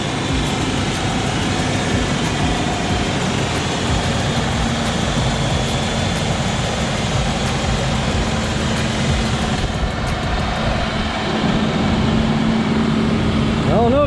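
A Ford Ranger truck engine idles steadily up close with a low, even drone that eases slightly lower toward the end.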